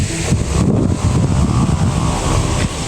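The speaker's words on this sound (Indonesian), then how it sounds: "Ngeri ya Allah, kencang anginnya ini." Strong wind blows hard and loud against the microphone outdoors, a continuous rough roar and buffeting with gusty surges throughout.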